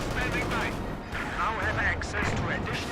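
Gunfire and artillery bursts from a Company of Heroes 2 battle, with tank guns trading shots, sounding as a dense, continuous rumble of explosions and shots under steady commentator speech.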